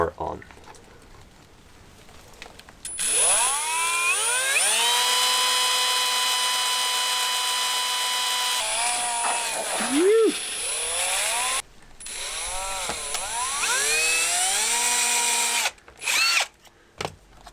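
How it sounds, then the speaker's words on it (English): A power drill whines loudly, spinning up and bogging down in several long bursts with brief pauses between, rising pitch as it bites through a plastic mudflap on a Subaru Forester. "I'm just gonna drill through it where the marks are on."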